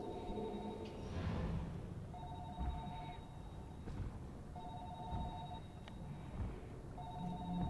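In the video game Narcosis, a telephone rings in repeated electronic double bursts, each ring spaced about 1.5 seconds apart, steady and moderately loud over a low, rumbling underwater ambience.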